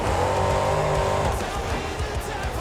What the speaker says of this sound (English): Turning that truck around.